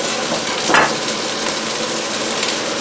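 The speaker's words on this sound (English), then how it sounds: "Put the meat in, no seasoning, just to get it nice and brown" Meat browns unseasoned in a hot pan for Thai cooking, a steady bright sizzle with a brief louder hiss and stir near the start, close and continuous, no voices.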